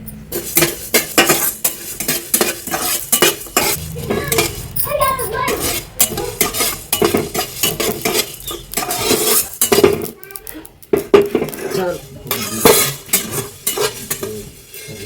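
Coriander seeds and spices are dry-roasted in a pan, with close, brisk rattling and scraping from a metal spatula in uneven bursts and a light sizzle underneath, along with occasional faint voices.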